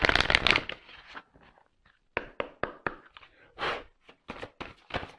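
Tarot cards are shuffled and handled during a French card reading, a brisk riffle at the start followed by a series of separate soft slaps and taps with short pauses between them, close and clear.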